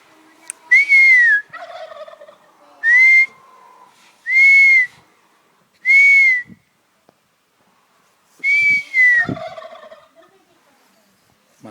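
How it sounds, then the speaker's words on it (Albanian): A turkey in a garden of orange and mandarin trees gives five loud, whistling gobble calls in separate bursts, with quiet gaps between them and no talk. "Ja dhe gjeli po gufon, po bëhet gati për vitin e ri."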